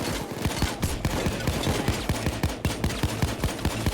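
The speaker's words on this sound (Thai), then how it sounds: "ยิงมั่วกะไปเถอะ" Rapid automatic gunfire from the heist shooter Payday 2, a steady stream of close, loud shots in quick rhythmic succession over a dense background of game noise.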